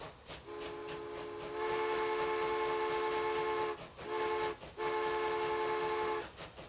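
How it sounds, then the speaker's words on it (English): A steam-style train whistle from the Transport Fever video game blows in several long, harmonic-rich blasts with short gaps as a train moves off, fairly faint, with no speech. "Love the whistle sound."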